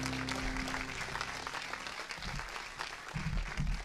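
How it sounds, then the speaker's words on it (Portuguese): A church congregation applauds during a sermon, a dense steady patter of clapping from many hands with low rumbling crowd noise underneath. "Dê um aplauso, Senhor."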